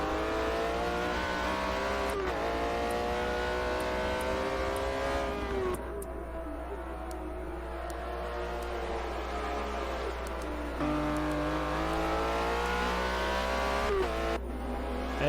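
Race cars in a WEC qualifying session at Mugello, engines droning and revving through gear changes, one car after another passing continuously at moderate distance with a steady low rumble underneath.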